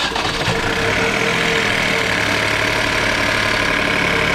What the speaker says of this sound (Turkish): arabanın motor sesi ilk açıldığında çok hafif yüksek başlıyor